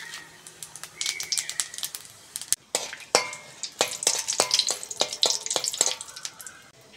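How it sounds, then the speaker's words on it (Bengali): Dried red chillies and panch phoron sizzle and crackle in hot oil, with a dense run of sharp pops and spits over a steady frying hiss, close by with no talk. "ওই তেলের মধ্যে শুকনো লঙ্কা আর 5 ফোড়ন ফোড়ন দিয়ে দেবো।"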